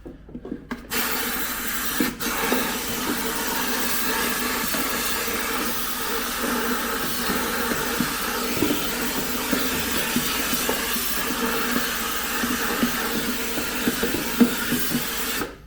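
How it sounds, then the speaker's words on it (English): An air compressor's hose blows a steady, loud rush of hissing air throughout, used as a makeshift vacuum during repair work on a 1987 Suzuki LT300E ATV, with faint scraping and knocks mixed in and no talk. "How to use your air compressor as a vacuum?"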